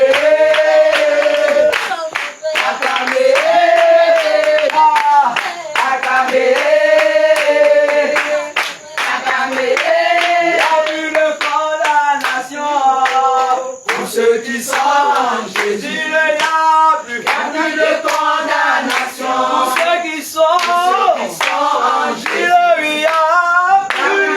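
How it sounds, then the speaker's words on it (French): A church congregation at a revival service in Côte d'Ivoire claps steadily and loudly for a long stretch, the rhythmic applause mixed with singing voices and music throughout. "acclamez, acclamez,"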